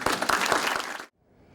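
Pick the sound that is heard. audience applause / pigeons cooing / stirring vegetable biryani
audience applause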